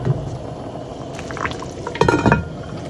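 About two cups of water pour into a pot of oxtail, a short liquid splash and gurgle with light clinks near the end, close and fairly quiet, no talk.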